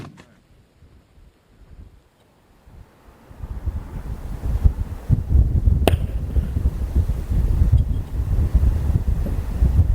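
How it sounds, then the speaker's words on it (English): Wind rumbles and gusts against the microphone at a long-range rifle range, rising after a quiet start into steady buffeting, with a brief sharp click midway. "the wind is actually moving around quite a bit, going gusting"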